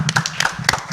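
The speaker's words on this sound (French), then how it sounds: "On l'applaudit." A handful of sharp, separate claps from an audience on a French broadcast, close and fairly loud, in a short irregular burst lasting about a second.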